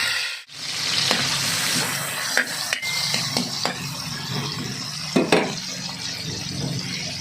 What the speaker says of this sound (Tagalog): magluluto tayo ng sugpo. Luluto ko sa butter.